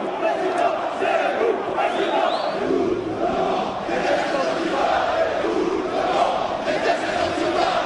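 Dense crowd of protesters in the street chanting together during a crush of people, a steady loud wall of many voices with rhythmic swells and shouts throughout.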